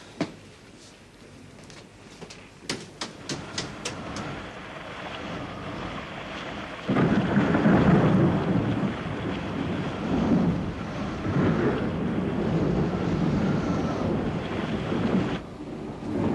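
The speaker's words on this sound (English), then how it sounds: "Rain's coming down in bucketfuls." Heavy rain in a radio drama pours down as a broad, rushing wash with gusty swells, preceded by a few sharp knocks and clatters, then growing louder and steady for the rest.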